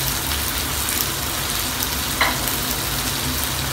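Macaroni with fermented pork stir-fries in a hot pan with tomato sauce and chili sauce, a loud, even, rain-like sizzle with one brief sharper clink partway through, close up and without talk.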